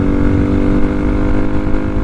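Honda Grom and Benelli TNT135 motorcycles on a top-speed run along a stretch of road: a loud, steady engine drone with a strong harmonic hum that holds constant throughout, with no speech.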